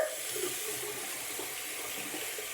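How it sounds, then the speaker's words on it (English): Tap water runs steadily as a makeup sponge is rinsed under it, a close, continuous hissing splash with no talking. "So you're gonna go ahead and run it under water."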